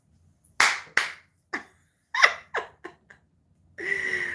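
Several sharp hand claps ring out one at a time in an uneven rhythm, close and loud with quiet gaps between them, followed by a brief exhale.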